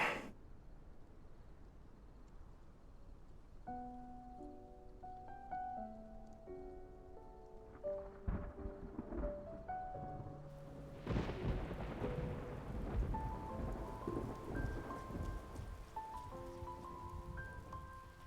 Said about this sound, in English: It's raining! Let's head inside.